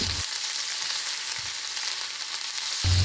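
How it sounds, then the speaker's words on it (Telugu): Gongura leaves fry in a pan as chicken curry is cooked Telangana style, with a steady close sizzle and faint stirring scrapes. "గోంగూరని బాగా ఉడికే వరకు వేగనీయండి"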